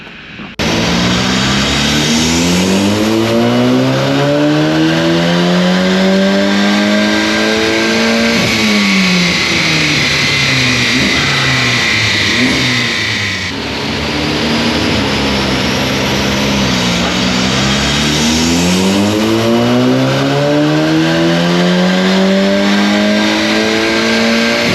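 An Audi TT MK2 8J being tuned on dyno rollers revs hard in two long sweeps, the engine climbing steadily in pitch, dropping back, then climbing again, very loud and close with no voices.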